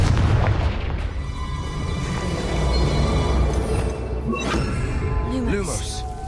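A Confringo fire spell exploding in the video game Hogwarts Legacy, a low booming blast with rumbling decay over game background sound, with a voice speaking briefly.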